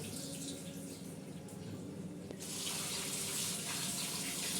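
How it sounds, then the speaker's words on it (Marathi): Rice for biryani being washed under a running tap, a continuous steady stream of water that grows louder and fuller midway, alone without talk. "हे बघा असं चांगले स्वच्छ असे धुवून घेतले"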